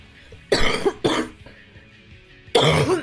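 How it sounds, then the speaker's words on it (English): Three harsh coughs, two close together and then one after a pause, loud and near with a faint background hiss between them. "Oh, pardon my coughing."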